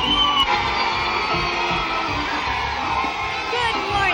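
Noisy crowd on a convention floor during a political demonstration, a dense continuous roar of shouting and cheering voices holding steady and loud throughout.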